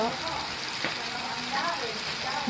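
Fermented rice buro hitting a pan of sautéing garlic, onion and ginger, giving a steady close sizzle with soft stirring scrapes throughout.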